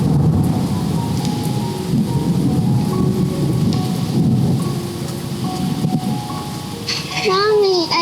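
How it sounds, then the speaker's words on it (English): Steady rain falls in a thunderstorm with rumbling thunder, a dense wash of noise filling the clip, while a voice briefly rises near the end. "It's raining."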